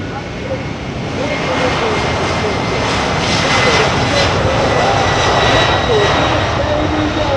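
Four F138 engines on a C-5M Super Galaxy winding up at the Dover Air Force Base air show, a loud continuous roar and whine that swells slightly and holds steady.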